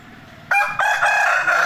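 An Aseel rooster crows loudly and close by, one long strained cock-a-doodle-doo that breaks in partway and carries on to the end.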